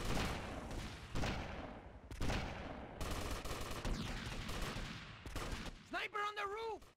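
Heavy M60 machine gun fire in GTA Vice City, dense bursts of gunshots and explosions in a firefight, ending with a rising and falling siren-like tone over the clatter.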